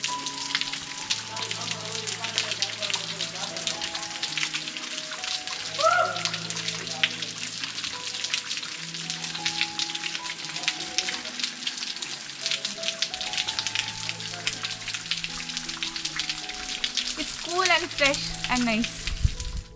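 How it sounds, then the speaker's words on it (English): Fresh water falls from rocks along a temple trekking route, giving a steady, dense splashing rush throughout, with faint voices and brief chirps partly audible underneath. "We saw the water falling from the rocks."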